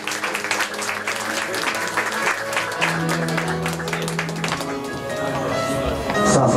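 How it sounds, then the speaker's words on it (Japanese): Applause from the audience welcoming first-place winner Nakayama Yuzu onstage at the Osaka Märchen CD member announcement, a dense steady clapping that continues under music with sustained tones and builds louder toward the end. "皆さん拍手でお迎えください"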